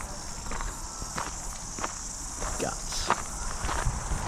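Footsteps crunch at an irregular pace as someone walks around an old structure on New Zealand's East Cape. Insects chirp steadily in the background, and a voice speaks briefly.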